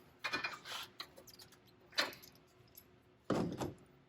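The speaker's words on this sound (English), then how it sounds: "we'll use the crescent wrench to apply the torque" A crescent wrench clinks metallically against a regulator fitting as it is tightened, in three short, faint bursts separated by quiet pauses.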